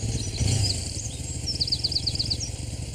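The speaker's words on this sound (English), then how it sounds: "And here's Peter Fogg on his motorbike." A motorbike engine rumbles low and steady throughout, with birds chirping and trilling brightly over it.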